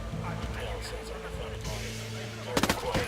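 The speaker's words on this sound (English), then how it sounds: "I'm shooting these fuckers." Gunfire in Ghost Recon Wildlands bursts out as a cluster of sharp shots near the end, following a low droning engine-like hum and a voice talking over it.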